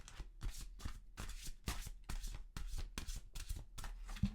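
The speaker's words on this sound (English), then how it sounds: "Let's shuffle one more time." Quiet rapid riffling of an oracle card deck, repeated in short bursts with brief pauses between them, close by and with no talking.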